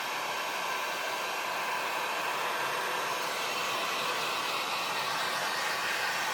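A heat tool or dryer blows steadily to dry mixed media craft pieces made with stamps and gel plate prints, giving a loud, continuous broadband whoosh that holds unchanged for the whole stretch with no talk.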